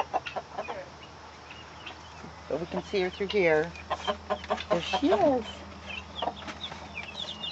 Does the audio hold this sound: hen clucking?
yes